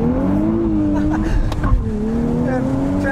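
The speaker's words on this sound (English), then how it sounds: "I'm gonna do an acceleration here with the windows down" A 2023 Nissan Z with a manual gearbox accelerates with the windows down. The engine note climbs steadily and stays loud and continuous throughout, and faint voice-like sounds are mixed in.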